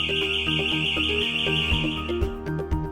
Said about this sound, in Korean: 도난 경보 장치가 잘 울리는지 확인해주세요